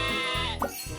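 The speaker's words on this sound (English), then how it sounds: "Oh no! Sheep have wandered onto the tracks." Sheep bleating on the tracks in a Thomas and Friends video game, two clear close bleats over a sustained musical background.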